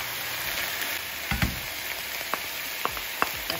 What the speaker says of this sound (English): Now I'm going to go right in with my finely diced onions